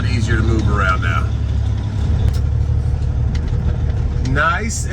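A heavy truck hauling a solar panel load creeps along slowly off the pavement, its engine rumbling low and steady close by, with voices talking over it at times.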